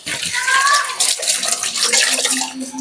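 Water pours into a pot of fish stew of bakoko (sea bream) simmered with tomatoes, a close, steady splashing that runs continuously with no talk over it.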